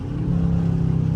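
Dodge Charger R/T with the 5.7 engine downshifting while coming to a stop, heard as a brief, loud, steady low engine drone close by.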